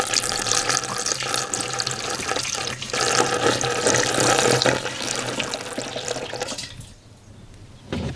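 Gray water from a van's water system pours through a giant funnel, a steady close splashing gush that surges midway, then thins to trickles and drips.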